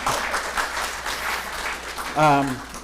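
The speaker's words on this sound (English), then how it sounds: "You can clap, yeah." A congregation at a Unitarian Universalist worship service claps in a brief, moderate burst of applause, followed by someone speaking near the end.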